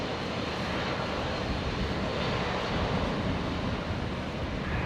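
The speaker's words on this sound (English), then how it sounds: "Qantas 1078 just cleared for takeoff on 19 right." A Qantas airliner taking off from runway 19 right at Brisbane International Airport roars loud and continuous, a broad jet-engine rush that swells slightly midway, with no voices.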